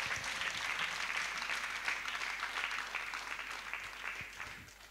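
A church congregation applauds in praise of God in the name of Jesus. The clapping is sustained and even, with a full crowd sound that is moderately distant and fairly quiet.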